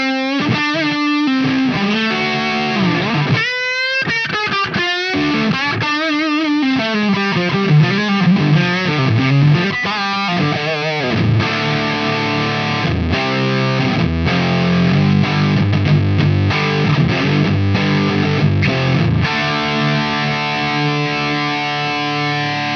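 Electric guitar through a Wampler Ratsbane distortion pedal with the gain turned way up, fuzzy saturated riffs and sustained chords played steadily and loudly with no talking.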